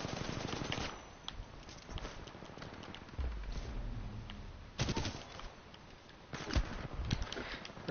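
Rapid gunfire in Titanfall 2 sounds as repeated bursts of shots throughout, with several louder clusters standing out against steady background game noise.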